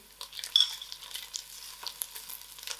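Whole cumin and mustard seeds frying in hot oil with curry leaves, giving a light, crackly sizzle with scattered small pops and faint stirring, quiet and close.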